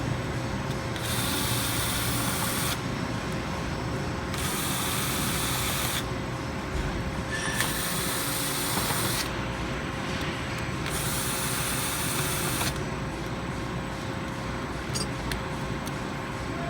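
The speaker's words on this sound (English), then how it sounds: "You want to remove the cover first by taking out the 4 screws with a Phillips screwdriver." A Phillips screwdriver turns out the cover screws of a lake alarm in repeated bursts of rasping, ratcheting friction that alternate with short pauses, over a steady hum.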